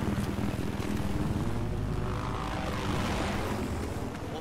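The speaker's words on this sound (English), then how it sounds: "Chopper's coming right for you, Yig." A helicopter approaches in the video game Battlefield 4, a steady, fairly loud rotor-and-engine drone that holds throughout with no speech over it.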